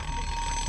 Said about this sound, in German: Dann nehme ich einen Wecker.